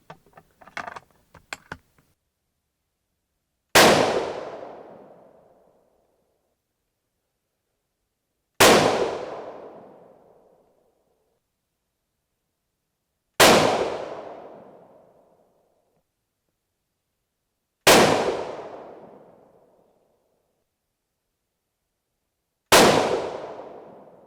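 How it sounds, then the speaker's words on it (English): A .22-250 Remington rifle fires five loud, sharp shots at a target, evenly spaced about five seconds apart, each trailing off in a short echoing decay after a few faint clicks at the start. "let's go ahead and shoot, go to a fresh dot, and let's shoot an 11 shot group"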